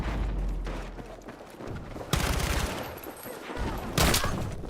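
Shotgun gunfire in the video game Battlefield 6, several sharp blasts standing out from busy battle noise, loudest near the middle and toward the end.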